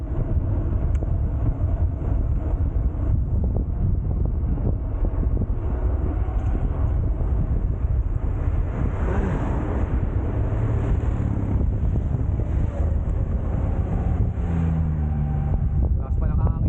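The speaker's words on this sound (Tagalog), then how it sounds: "Lakas pa ng hangin, diba?" Strong, steady wind roars and buffets against the microphone throughout while riding a bike downhill without pedalling, a constant loud low rush with a voice talking faintly beneath it.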